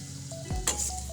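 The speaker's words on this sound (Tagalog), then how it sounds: "una magigisa tayo ng bawang" Garlic and onion hitting a hot pan, a soft sizzle that swells into steady frying with a few faint clinks, heard up close and with no talking.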